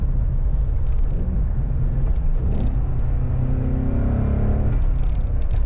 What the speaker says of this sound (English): Let's go ahead and put the exhaust into quiet mode.